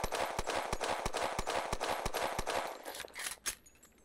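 A Browning High Power 1935 pistol with a tangent rear sight fires in Fallout: New Vegas, about a dozen sharp shots in a steady, fast rhythm, close and loud, tapering off into a few scattered, quieter pops at the end.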